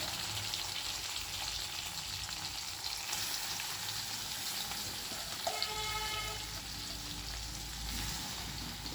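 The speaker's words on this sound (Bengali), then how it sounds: "প্রথমে কড়াইতে সর্ষের তেল গরম করতে দিয়ে দিয়েছি। তার মধ্যে দিয়ে দিচ্ছি আমি নুন হলুদ দিয়ে মেখে রাখা চিংড়ি মাছ।" Prawns coated in salt and turmeric fry in hot mustard oil in a wok, making a steady, continuous sizzle at even loudness throughout, with no voices.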